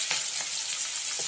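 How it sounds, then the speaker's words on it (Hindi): Onion and garlic fry on a medium-high flame with a dense, even, close sizzle and faint stirring underneath, brief and steady throughout. "मीडियम टू हाई फ्लेम पर डार्क ब्राउन होने तक इसे हमें फ्राई"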